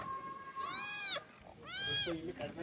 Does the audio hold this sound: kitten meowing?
yes